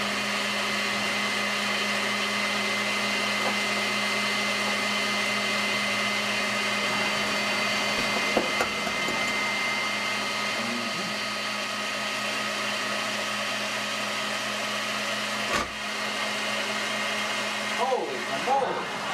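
A blender runs on high whipping egg yolks in a kitchen, a loud steady motor whine holding throughout, with brief voices and clatter near the end.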